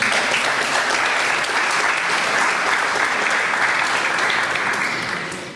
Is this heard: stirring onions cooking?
no